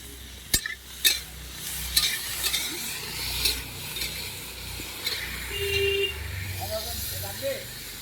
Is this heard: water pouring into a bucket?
no